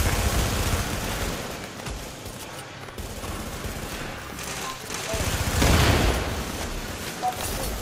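Rapid gunfire and bursts from a firefight in the video game The Division, with a heavier grenade blast swelling near the middle, all set under voices calling out across the skirmish.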